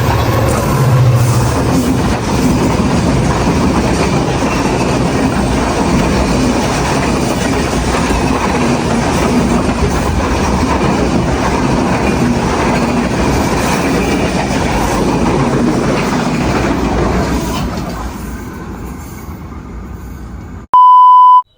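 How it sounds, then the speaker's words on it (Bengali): A train passes close by with a loud, sustained rumble and clatter of wheels that holds for most of the time, then fades away, followed by a short electronic beep. "গাইস ট্রেন আইতেছে।"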